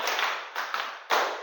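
A class claps in unison to a spoken count, giving a quick run of four loud, reverberant claps at slightly uneven intervals.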